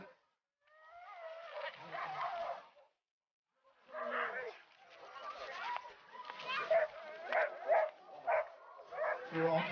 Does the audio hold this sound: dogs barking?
yes